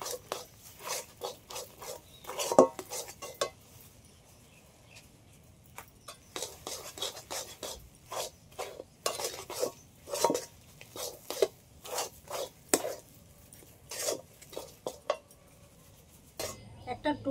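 Semolina mixed with baking powder being stirred a little at a time into cooked palm fruit pulp, giving repeated close scraping and clinking of a utensil against a pot in irregular bursts, with faint background noise.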